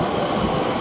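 A Class 387 electric train passing West Ealing station on the Great Western Main Line, heard as a steady, loud, close rumble and rushing roar throughout.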